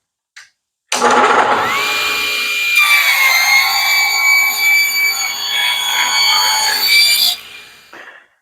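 A power saw rips through scrap wood to cut 1.5-inch square pieces, a loud sustained whining cut of about six seconds that starts and stops abruptly.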